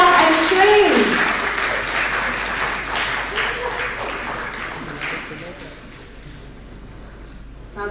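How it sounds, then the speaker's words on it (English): Guests at a book launch event break into loud applause mixed with cheering, the clapping strongest at the start and gradually fading over several seconds, with a voice briefly audible at the very beginning. "Big round of applause for Dhyan and Mr. Khan."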